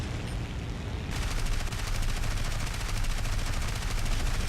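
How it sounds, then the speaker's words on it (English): Rapid continuous gunfire shooting at vehicles in War Thunder, a dense, loud, sustained machine-gun roar that intensifies after the first second and holds steady to the end. "let's try and see if we can shoot a couple of these vehicles"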